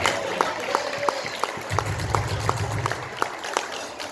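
Wedding guests at a reception in Romania clap, a moderate patter of hands with a few sharp, evenly spaced claps standing out, fairly close and without speech.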